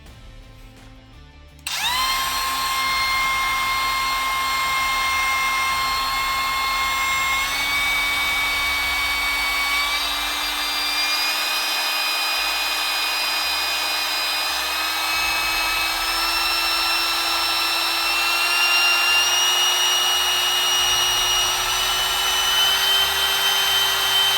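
A DeWalt cordless router starts after a short quiet moment and runs with a loud, close, high-pitched whine. The whine rises slowly and steadily in pitch as the speed settings change, then holds near full speed.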